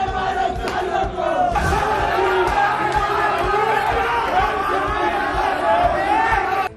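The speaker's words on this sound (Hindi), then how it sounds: "भोपाल में पीसीसी दफ्तर के अंदर कमलनाथ और दिग्विजय की तस्वीरों को पीटा गया और मुर्दाबाद के नारे लगाए गए" A dense crowd of protesters inside the Congress PCC office in Bhopal chants slogans loudly and continuously, many voices shouting together in a rough rhythmic cadence, close and unbroken throughout.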